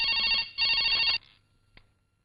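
A telephone rings in two loud, close electronic bursts of trilling tones, the second cut off abruptly and followed by a faint click.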